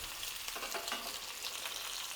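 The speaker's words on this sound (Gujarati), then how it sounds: "થોડી હિંગ ઉમેરશું, મીઠા લીમડાના પાન ઉમેરશું અને તરત જ આપણે સ્ટીમ કરેલા મુઠિયા ઉમેરી દઈશું." Steamed vegetable muthiya are added to a hot tempering of asafoetida and curry leaves, making a dense, even sizzle with some stirring throughout a short stretch and no speech.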